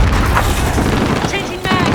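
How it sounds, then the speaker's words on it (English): A frag grenade blast in the Modern Warfare (2019) Spec Ops mission, a loud booming rumble filling the whole moment amid dense battle noise. "Enemy got frag out!"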